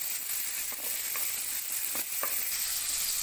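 Chopped onion with mustard seeds and cumin sizzles steadily in hot oil for a snake gourd kootu, a close, even frying hiss broken by a few soft stirring taps, with no voices.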